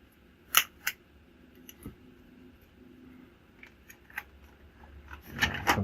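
Unboxing a Mavic Air 2 drone combo package: a few sharp plastic and cardboard clicks and rustles near the start, a quiet stretch of faint handling, then louder crinkling and packaging scrapes toward the end.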